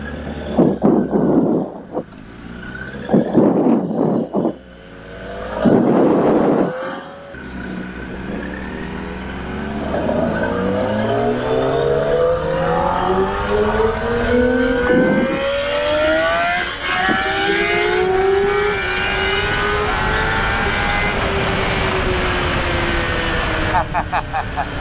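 Kawasaki ZX-10R motorcycle engine revving and pulling through the gears on the road, loud and steady with rising pitch sweeps, preceded by a few bursts of talk and wind noise at the start.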